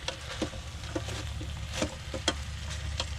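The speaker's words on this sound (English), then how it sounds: "Give that a stir." A spoon stirs a pot of stew on a small stove inside a van, giving soft scraping and clinking taps over a steady low simmering hiss.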